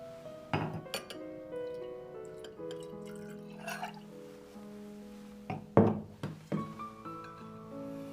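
Glasses clink in a celebratory toast: several sharp, ringing taps and chimes scattered across the moment, close and clear over a quiet background with faint tonal music.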